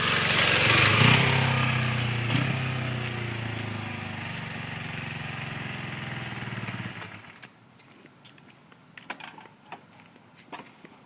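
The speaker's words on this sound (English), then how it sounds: "2007 250 Kawasaki Ninja." A 2007 Kawasaki Ninja 250 motorcycle engine runs close and loud, its pitch shifting, then cuts off about seven seconds in, leaving quiet with a few faint clicks.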